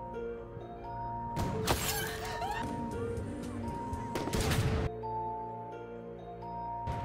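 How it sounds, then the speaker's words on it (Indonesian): Several sharp, loud sniper rifle shots crack out amid crackling fireworks and tonal background music, then the scene quiets with music continuing. "terselip suara ledakan sniper yang menembaki beberapa orang acak"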